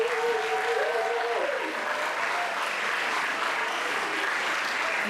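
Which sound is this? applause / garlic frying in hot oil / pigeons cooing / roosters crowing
applause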